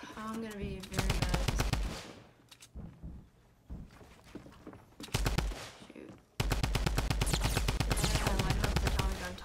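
Tommy gun from Fortnite firing in long, loud rapid bursts with short pauses between them, mixed with quieter game sounds in the gaps.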